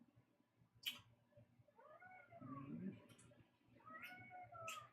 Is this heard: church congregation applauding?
no